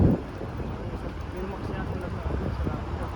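Steady wind buffeting the microphone outdoors in Manila, a continuous low rumbling roar with gusty swells, loud and close throughout and with no clear voices.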